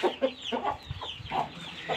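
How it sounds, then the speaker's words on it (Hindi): An Aseel rooster up close gives a series of short clucking calls repeating every half second or so, with rough farmyard background noise. "और एक यहाँ पे हमारे पास मुर्गा है"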